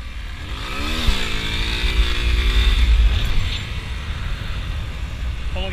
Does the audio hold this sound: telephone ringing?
no